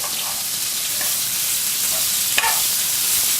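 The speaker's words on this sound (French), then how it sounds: "Tourner une fois les oignons." Onions frying in a pan over a gas flame give a steady, hissing sizzle, with a few soft scrapes and one sharp clack of a utensil as they are stirred.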